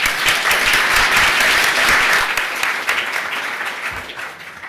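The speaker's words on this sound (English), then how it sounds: "Let's give a round of applause to everybody, please." A conference audience claps after a session, with dense, steady applause that fades toward the end.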